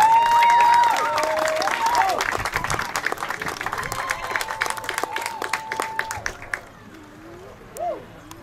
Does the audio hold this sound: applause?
yes